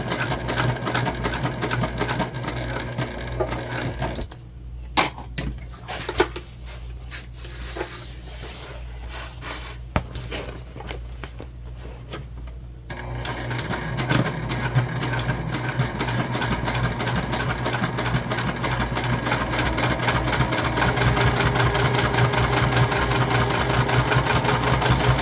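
Sewing machine stitching tote bag seams with backstitching, a close, continuous motor whir and rapid needle chatter that pauses briefly for pivots and clicks, then runs steadily louder toward the end.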